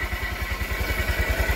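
A motorcycle engine running just after an oil change, its steady low putter pulsing evenly and close up with a faint metallic clatter over it and no talk.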